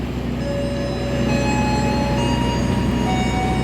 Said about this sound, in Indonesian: yang berada di jalur sebelah sini itu adalah kereta api berantas tambahan ya